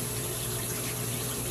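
A shower runs in a bathroom as steady, broadband water spray, continuous and fairly loud with no voices over it.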